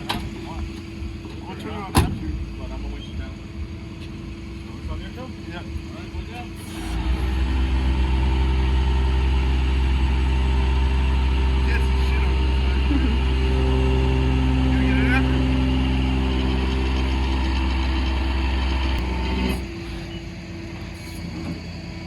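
A 1971 Chevy Nova big-block V8 fires up after a few seconds of quiet and settles into a loud, steady, rumbling idle close by, holding strong for about twelve seconds before dropping off.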